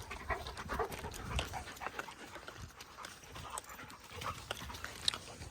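A pack of German Shepherds panting close by, quick rhythmic breaths overlapping with light paw and collar movement, steady throughout with a brief sharper sound near the end.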